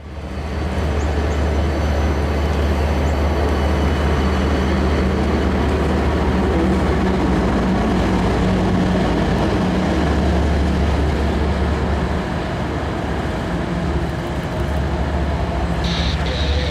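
A Norfolk Southern work train rumbles past steadily and loudly, a continuous heavy rolling noise with metallic wheel sounds, with a brief high squeal near the end.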